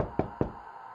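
Two sharp knocks on a chamber door, close and distinct, roughly a fifth of a second apart, set against a faint background hum.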